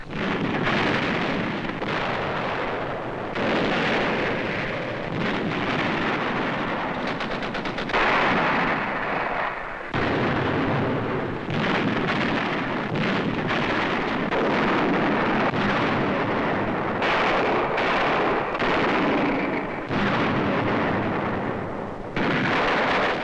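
Naval guns and land artillery pound Iwo Jima in 1945 in a loud, continuous barrage of heavy booms and rapid firing that rolls on in dense waves with brief lulls, without any voices.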